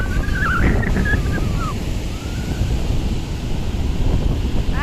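Big ocean waves breaking on Puri beach, a steady loud roar of surf under gusty wind buffeting the microphone, with brief indistinct voices early on.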